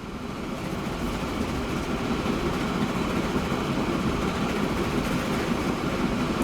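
A freight train rumbles along the tracks in Transport Fever 2, a steady, continuous rolling roar of wheels and wagons with a slight swell at the start and no speech.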